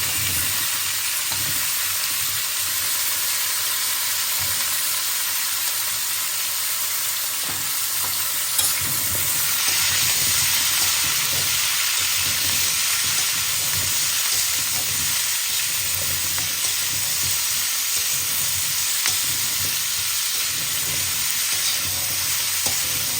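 Shrimp and cauliflower fry in a pan with a loud, continuous sizzle, broken by occasional stirring scrapes, and no voices over it.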